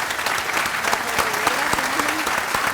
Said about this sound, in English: So let's give a round of applause for Gargantia.